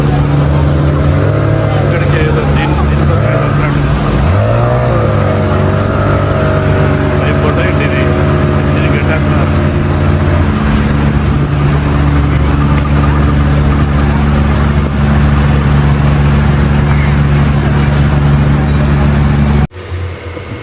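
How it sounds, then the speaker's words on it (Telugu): An ordinary motorboat on the water in Goa drones steadily and loudly, close by, with a low rumbling hum and a wavering pitch as it passes, continuing for about twenty seconds. "వెనకాల చూడండి స్పీడ్ బోట్ వస్తుంది స్పీడ్ బోట్ కాదు నార్మల్ బోటు"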